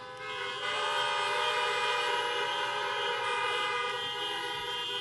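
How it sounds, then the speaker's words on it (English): Long, steady car horn blasts blare continuously for several seconds at a campaign rally in Durham, North Carolina, loud and sustained, with a shifting tone partway through and no talking. "honk your horns if you feel victory in your heart"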